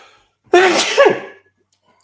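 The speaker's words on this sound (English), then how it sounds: "I think I am going to sneeze." A single loud, close sneeze bursts out in one sharp explosive breath, followed by a brief fade and near silence, with a faint click at the end.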